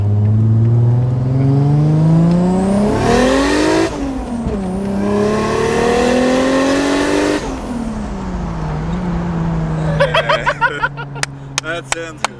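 Car with a freshly converted 1JZ single turbo engine on a first test drive: loud revs rise and fall twice, then settle into a steady idle before sharp popping bursts crackle near the end, with voices talking in the background.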